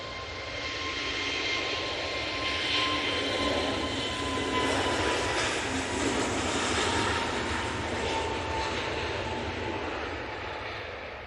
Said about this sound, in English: we've got the Jet 2 A321 Neo off to Tenerife